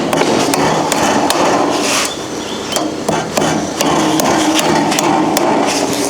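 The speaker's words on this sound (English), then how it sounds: "We're just going to keep going through hand nailing the joist hangers" Joist hangers being hand nailed on a timber frame, a loud, steady run of sharp hammer blows close by with brief pauses between bursts, no talking.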